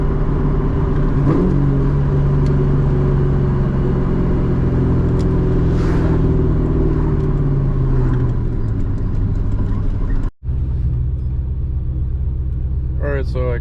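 Straight-piped 2003 Mustang GT engine rumbles steadily from the cabin while driving, with a rising pitch sweep as it accelerates early on, then settling into a low idle-like drone; a brief dropout occurs near the end.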